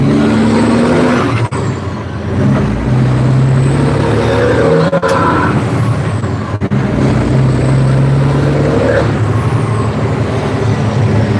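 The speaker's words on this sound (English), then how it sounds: "If the truck noise gets to be too loud, let me know, and I'll roll my windows up." Inside a truck cab rolling through heavy traffic in the Twin Cities, Minnesota: loud, continuous engine and road rumble with shifting gear tones, several sharp air-brake hisses and passing vehicle noise.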